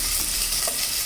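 Fresh tomatoes sauté in a pan for a sinigang with salmon belly, giving a steady close sizzle and hiss with faint stirring and no talk.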